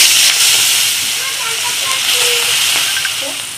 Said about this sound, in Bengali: আমি এবারে ভাজবো।